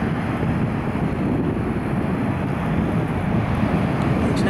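Steady wind buffeting a camera microphone on a breezy day at Hornsea beach, a continuous low rumble with constant loudness throughout and no talk.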